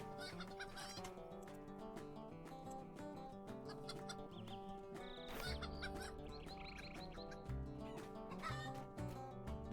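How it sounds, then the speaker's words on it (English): Hen clucking in Lord of the Rings Online, layered over a busy game soundscape with steady music and tonal effects, the clucks repeating throughout at moderate volume. "The hen rolled the egg out of the nest."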